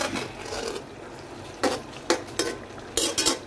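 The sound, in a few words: stirring vegetable chorchori frying in plenty of oil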